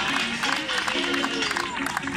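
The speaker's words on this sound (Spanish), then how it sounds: "Fuerte ese aplauso." Crowd applause greets runners crossing the finish of a night half marathon in Miramar, a dense, continuous clapping wash mixed with cheering voices and an announcer speaking over it.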